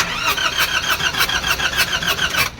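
A Nissan NV350 van with a YD25 diesel engine cranks repeatedly without firing, a loud, close, rhythmic starter whirring at an even fast pulse that stops abruptly at the end.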